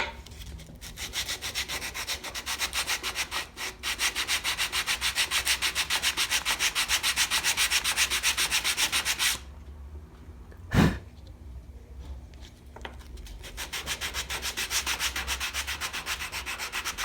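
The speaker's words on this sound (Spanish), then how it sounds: "Creo que podemos trabajar ahí un poquito con la lija otra vez." Steady, rhythmic rasping of sandpaper rubbed back and forth on wood, pausing briefly with a single knock before the scraping resumes.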